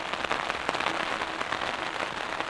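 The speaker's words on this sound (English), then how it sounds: "I think it's raining so much that I'm starting to notice a leak in my tent." Heavy rain drumming on a tent during a night storm, a dense, continuous patter of drops striking the fabric up close, steady and moderately loud with no voices.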